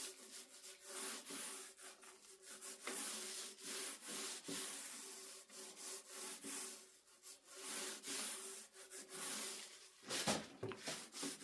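Painted wooden kitchen cabinets are sanded by hand with fine sandpaper between coats. The rubbing rasps along steadily in quick back-and-forth strokes, close up, with no speech.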